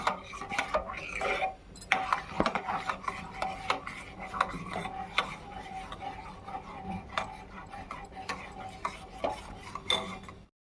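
A spoon stirring a thickened milk and almond mixture for kulfi in a pot, with repeated close scraping and rasping strokes and clinks against the metal, steady throughout.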